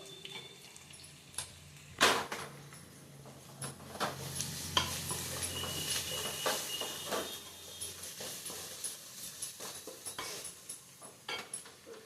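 Sliced okra (lady's finger) fries with a little turmeric in a pan and is stirred, with scraping strokes over a steady close sizzle and a sharper clatter near the start. No one speaks.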